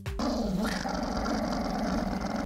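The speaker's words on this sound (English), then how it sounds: "Pomeranians have a distinct low growl that basically says to leave them alone." A Pomeranian gives a sustained low growl, close and steady, rumbling continuously with a slight rise early on and no talk over it.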